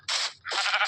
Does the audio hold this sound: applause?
no